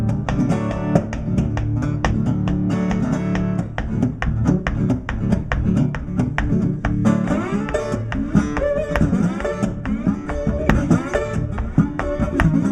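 Blues guitar imitating the Panama Limited train running hard on split rail, a driving rhythmic chug of strummed and picked notes played continuously at close range.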